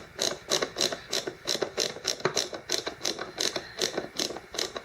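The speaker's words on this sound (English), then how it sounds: "The switch takes some effort to turn off, though. It's like a ratcheting screwdriver." Stiff switch on a homemade DIY stir plate turned with effort, giving a steady series of sharp ratcheting clicks like a ratcheting screwdriver, close and crisp with no talking.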